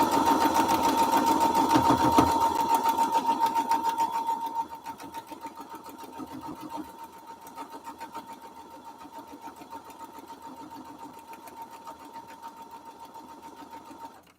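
A sewing machine stitches the last seam of a foundation-paper-pieced strawberry quilt block, a steady, fast running whir that is loudest in the first few seconds, then continues more quietly throughout.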